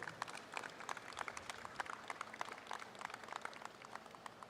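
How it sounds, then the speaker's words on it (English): Applause from an audience at a Houston livestock bull show, a steady crackle of many hands clapping, fairly distant and moderately loud, continuing throughout without talk. "So let's give them a big round of applause"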